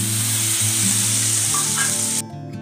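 Ginger, cumin and green chilli paste frying in hot oil for a vegetarian Bengali aloo dum, a steady close-up sizzle with soft stirring scrapes that drops to quieter frying near the end.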